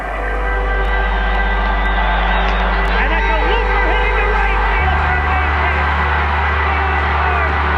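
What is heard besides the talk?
baseball stadium crowd standing and roaring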